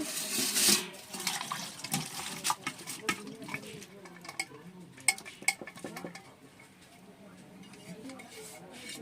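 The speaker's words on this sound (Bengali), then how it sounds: "এখন জলটা ঝরিয়ে নেব" Water is drained off boiled jackfruit in a home kitchen, with a splashy pour and scattered clinks of a pot and utensils, loud at first and then quieter.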